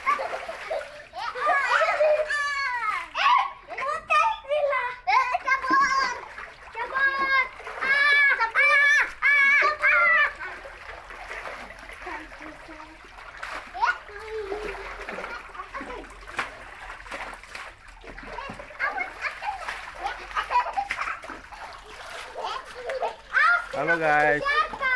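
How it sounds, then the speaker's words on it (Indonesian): Children splash and play in a home swimming pool, with water splatter mixed with excited shouts and chatter, loud bursts alternating with quieter stretches. "bocah lagi mandi kebersamaan sama Mbak Bika"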